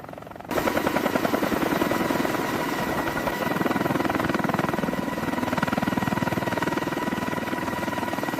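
Heavy-lift King Stallion helicopter rotors start up loudly after a brief quieter moment, then run in a steady, close, continuous beating roar with engine whine.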